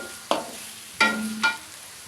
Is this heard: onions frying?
yes